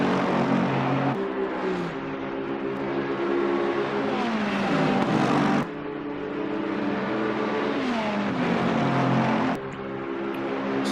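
GT race cars in a sim-racing game at Spa-Francorchamps roar past in a pack, layered engine notes rising and falling in pitch as they accelerate and shift, loud and continuous with no talk.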